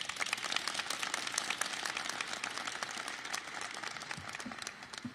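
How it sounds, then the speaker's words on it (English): Audience at a Chicago State University event applauding a student introduced on stage, dense continuous clapping from a room full of people lasting several seconds before tapering slightly near the end. "give her a warm round of applause"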